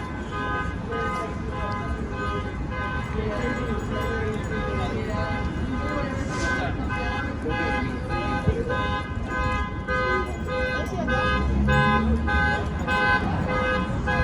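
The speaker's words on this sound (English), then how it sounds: "We got a car alarm across the street." A loud car alarm across the street blares continuously with steady repeating tones on the Hollywood Walk of Fame in Los Angeles, filling the whole stretch without a break.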